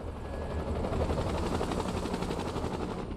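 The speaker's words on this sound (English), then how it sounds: "Oh, it's the plane." A plane engine in a video game drones with a rapid, pulsing propeller-like thrum, steady and fairly loud for about three seconds, with nobody speaking.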